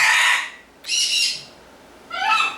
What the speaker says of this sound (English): Sorry about the bird.